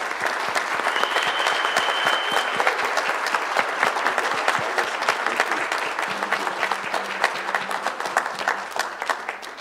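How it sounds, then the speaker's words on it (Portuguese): Sustained applause from an audience at a closing ceremony, dense and steady clapping throughout, loud and close, with the crowd noise tapering slightly toward the end and no speech over it. "eu peço a todos vocês e aos colaboradores nossos que estão aqui, uma salva de palmas"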